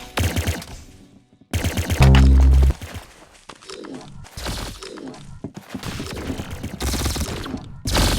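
Gunfire in the video game Arsenal comes as repeated sharp shots and rapid bursts with a few loud cracks, broken by brief gaps, close and punchy with other game effects mixed in.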